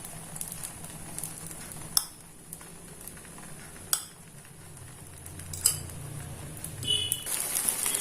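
While an omelette cooks in a pan, a metal utensil knocks sharply against the pan a few times at spaced intervals, with oil sizzling steadily underneath and scraping near the end.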